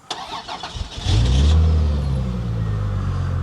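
A Plymouth Prowler car engine cranks briefly, then catches and revs loudly before settling into a steady, rumbling idle, close and alone.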